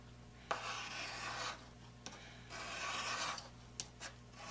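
A steel plane blade from a rebate plane rubbed on sandpaper, giving two long gritty rasping strokes with a few sharp ticks between them, close and fairly quiet.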